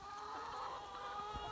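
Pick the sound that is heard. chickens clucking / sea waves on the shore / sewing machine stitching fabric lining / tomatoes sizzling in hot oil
chickens clucking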